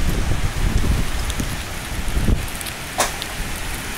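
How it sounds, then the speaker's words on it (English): Heavy rain and gusting wind during a storm in Muskogee, Oklahoma, pouring steadily and loudly close by, with a brief sharp crack near the end and no talk. "Wow, it's raining."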